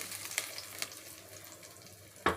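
Mushroom biryani ingredients frying in hot oil, a faint, steady sizzle with a few soft stirring scrapes and a sharper clatter at the end.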